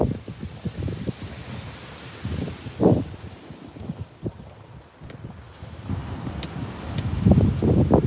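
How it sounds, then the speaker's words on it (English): Wind gusts buffet the microphone on a beach while fishing, with rough rushing bursts and surf-like noise rising and falling throughout, loudest in gusts near the start, middle and end, with no voices. "the wind's just a nightmare"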